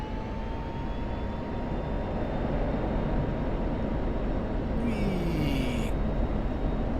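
A military helicopter in the DCS flight simulator over a modern Persian Gulf setting drones steadily, its turbine whine and rotor rumble holding a constant loud level, with a brief higher burst of noise partway through.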